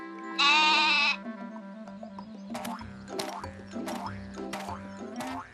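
A cartoon goat in an animated children's show lets out one loud, close, wavering bleat near the start, followed by bouncy music with a steady rhythmic beat.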